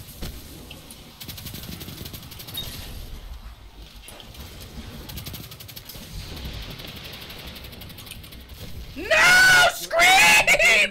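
Screams in a Destiny 2 Gambit match: a low bed of game noise, then two loud, strained scream bursts close together near the end.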